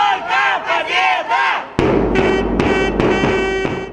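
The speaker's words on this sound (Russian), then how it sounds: "На поле слышна оглушительная поддержка болельщиков." Football fans at a stadium cup final, a local city derby between Dinur and Trubprom, roar loudly with chanting and cheering, then a deep thud hits and the crowd surges into a dense, sustained din with sharp bangs.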